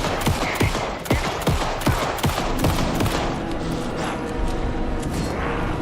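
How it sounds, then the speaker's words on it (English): Rapid bursts of automatic gunfire in the video game Alan Wake 2 crack in quick succession, loud and close, then taper into scattered shots and mechanical clatter. "Anderson, pin him down with gunfire for me to get the light on."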